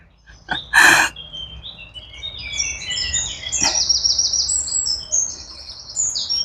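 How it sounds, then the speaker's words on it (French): Small birds chirp and twitter outdoors among green trees near caves and narrow passages, opening with a brief louder flutter, then a steady stream of high, quick calls close by. "On entend les petits oiseaux aussi."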